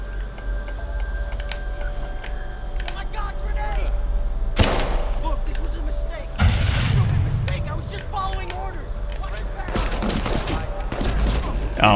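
Gunfire in the Watch Dogs 2 video game, a mix of scattered shots and booming blasts over a busy game soundscape, with a loud burst near the middle and dense rattling toward the end; a voice talks over it.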